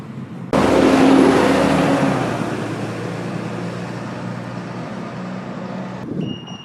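A green DAF lorry squeezes through a tight gap on a town street, its engine and rolling noise swelling loud and close, then easing to a steady rumble as it passes, with no talk.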